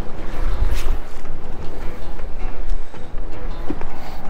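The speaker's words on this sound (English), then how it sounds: "This wind is gonna suck." Steady, rough wind buffets the microphone on a small fishing boat on a lake, a loud continuous rumble with gusty swells and no clear talk.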